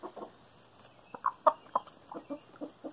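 Chickens clucking close by, a series of short, irregular clucks and soft calls spaced through the stretch over a low background hiss, with no talk.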